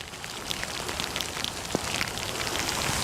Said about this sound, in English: This is no longer rain right now. This is borderline downpour.